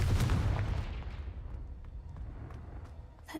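A Confringo fire curse from Hogwarts Legacy erupts as a loud booming blast at the start, then rumbles and fades away over a few seconds, with a brief crackle at the end.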